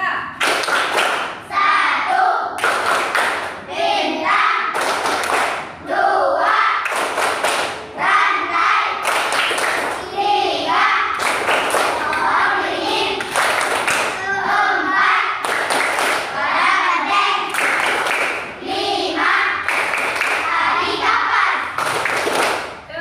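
A classroom of children performs the Tepuk Pancasila clapping routine, with loud rhythmic group claps and thumps repeating in patterned bursts alongside children's voices chanting throughout.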